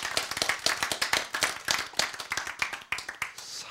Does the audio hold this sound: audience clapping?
yes